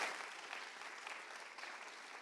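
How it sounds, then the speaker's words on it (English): Conference audience at 6 Degrees Toronto 2019 giving a round of applause, a steady dense wash of many hands clapping at once, fairly distant and even throughout with no voices over it. "Big round of applause for Javier."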